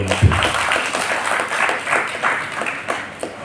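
A crowd applauds at a stage event celebrating children's dance and Bharatanatyam performances, with steady, dense clapping that carries on throughout without a break.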